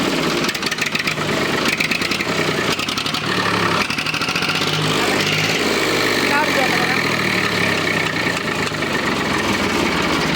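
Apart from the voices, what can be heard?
tractor engine idling with silencer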